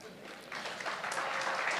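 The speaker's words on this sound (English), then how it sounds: "I said, no more applause." Audience at a labour law seminar gala dinner applauds, clapping starting softly and swelling into a fuller, sustained round of many hands, fairly distant in the hall.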